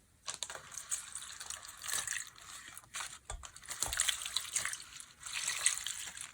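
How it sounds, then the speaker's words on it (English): Water poured from a jug over avocado leaves in a container for making dye, a splashing, gushing pour with uneven surges that runs through most of the stretch at moderate closeness. "So I'm just going to cover this with water."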